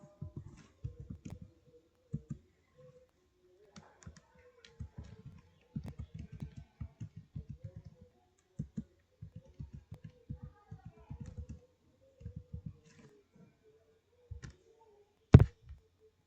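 An IP address is typed on a computer keyboard during Cisco router configuration: soft, quiet key clicks in short irregular bursts with pauses, ending in one sharper keystroke.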